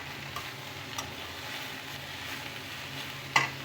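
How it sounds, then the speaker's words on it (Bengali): Eggs being fried and stirred in oil in a pan on a home stove, giving a steady soft sizzle with a faint scrape of the spatula near the end. "আর এদিকে আমি ডিমটা ভুনা করে নেই"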